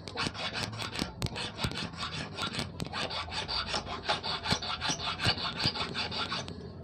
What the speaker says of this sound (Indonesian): Pengikisan menggunakan kikir ya teman-teman.